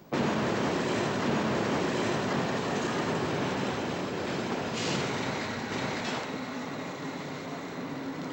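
Train running on rails: a steady, loud rolling rumble of wheels on track with a faint metallic squeal, continuous throughout with no talk.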